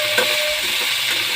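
Spices and salt fry in a pan, with a steady close sizzle and a brief scrape of stirring.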